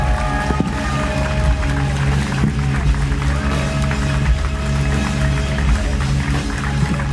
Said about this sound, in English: Come on, guys. Keep clapping. Let them hear the love.